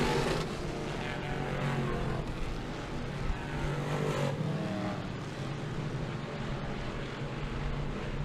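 Dirt track race cars lap Humberstone Speedway, a continuous loud engine roar from the pack passing with swelling drones, heard from trackside with no talk.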